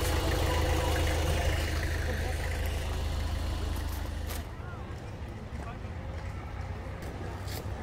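A farm tractor engine idles with a low steady rumble that drops off partway through, leaving quieter outdoor sound, while people talk over it.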